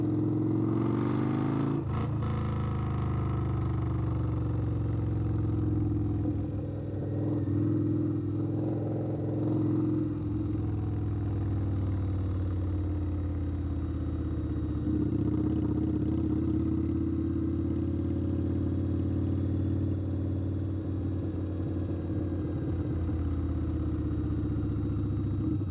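A custom tuned Indian Scout Bobber motorcycle rides through Garden of the Gods, its engine a continuous deep rumble that swells and eases with throttle, heard close over wind noise.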